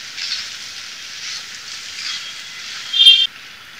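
Egg noodles stir-fry on a high flame, a steady close sizzle and hiss running throughout, with a short louder burst of scraping near the end.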